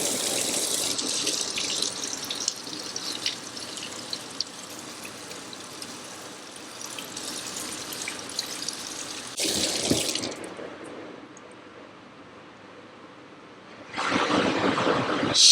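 Water is poured over a Huawei Mate X7 foldable phone in several hissing, splashing bursts of varying strength, with a quieter pause before a final loud gush. No one talks.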